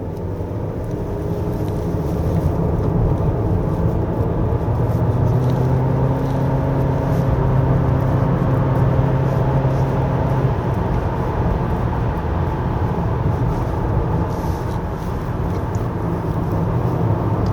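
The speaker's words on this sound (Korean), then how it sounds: "기어 위치를 S로 놨더니, 자, 좀 높은 RPM을 쓰네요." 2024 Honda Accord 1.5 turbo held at high revs in S mode on a winding road, a loud sustained engine drone with rising and falling tone and constant road and cabin rumble, no talking.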